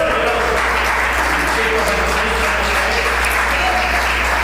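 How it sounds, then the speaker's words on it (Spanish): A church congregation applauds loudly and continuously, dense clapping filling the whole stretch at steady volume. "gracias por su aplauso."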